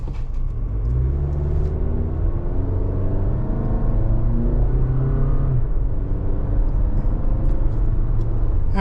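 A 2025 Toyota RAV4 LE AWD with a 2.5-liter inline-four and eight-speed automatic cruising on the road, a steady low engine drone and road rumble heard from inside the cabin, continuous and fairly loud with no talking.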